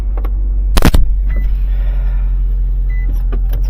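A used car's engine runs after starting, a steady low hum beneath a loud sharp transient near the start and scattered small clicks and rattles.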